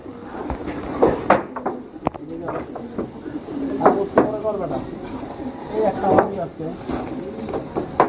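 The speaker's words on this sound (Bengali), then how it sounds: "এখানে মোটামুটি অনেকগুলো মাটি কবুতর" Mati pigeons with double rings coo in soft, repeated throaty rolls, with someone talking throughout and small knocks from the cage.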